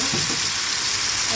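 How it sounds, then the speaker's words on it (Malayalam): Fish frying in hot coconut oil in a pan, a steady, even sizzle with a bright hiss that stays constant and close. "അപ്പോൾ എണ്ണ നല്ല ചൂടായിട്ടുണ്ട്. നമുക്ക് ഓരോന്നായിട്ട് മീൻ വെച്ചിട്ട് കൊടുക്കാം."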